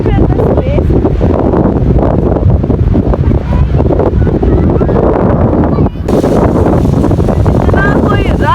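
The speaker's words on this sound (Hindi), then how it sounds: "बहुत तेज हवा है" Strong seaside wind at Clifton buffets the microphone in loud, continuous roaring gusts, with a brief dip near the end, while voices are faintly mixed into the rush.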